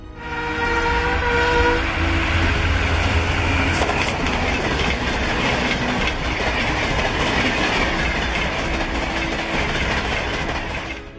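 The Gatimaan Express high-speed train thunders past on the rails with a steady loud roar and rhythmic wheel clatter, a horn sounding early on, no voices.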